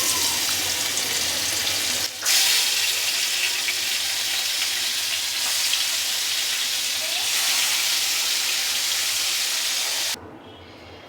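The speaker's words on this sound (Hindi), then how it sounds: "पनीर हल्का फ्राई कर लिया है मैंने" Paneer frying in a hot pan, a loud steady hiss and crackle of oil held close throughout with a brief stir near the start, then dropping away abruptly at the end.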